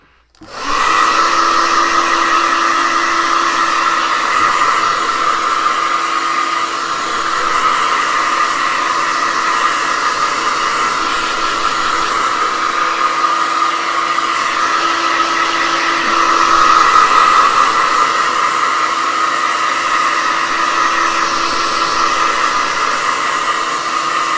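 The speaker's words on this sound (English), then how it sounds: "I'm going to hit it with a hairdryer" A hair dryer blows steadily at close range, a constant loud whooshing whine with a slight rise in pitch partway through.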